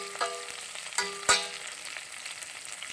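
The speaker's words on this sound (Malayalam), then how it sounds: "4 ഇതൾ കരിവേപ്പില ഇട്ട്" Four curry leaves fry in hot oil on a low flame for a Kerala ripe mango curry, giving a soft steady sizzle with a few sharp crackling pops, the loudest near the middle.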